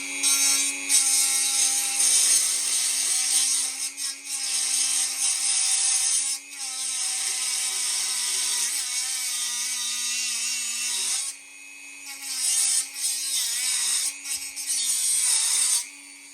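A Dremel rotary tool grinds and cuts through metal on a bobber motorcycle build, a loud, continuous high-pitched whine that drops out briefly a few times before resuming.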